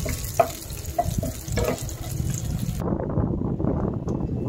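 Cashews and raisins sizzle in hot oil alongside browned sliced onion in a pan, a short, close, steady frying crackle with light stirring, cut off abruptly partway.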